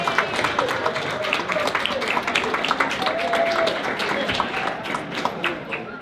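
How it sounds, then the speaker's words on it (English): Guests at a Women for Berger campaign event clapping for the co-chairs, a scattered, moderately distant round of many hands that continues steadily for several seconds, with murmured talk mixed in underneath. "Join me in giving the Women for Berger co-chairs a round of applause."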